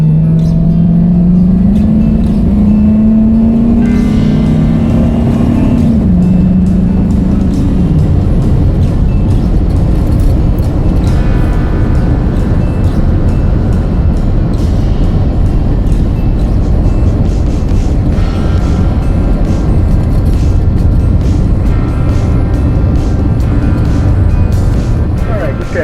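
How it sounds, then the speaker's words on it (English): A 2002 Suburban with a rebuilt front end and lowered torsion bars on a test drive, its steady engine and road noise loud and continuous inside the cabin, with a rising engine tone early on. "just took it for about a 15-minute drive"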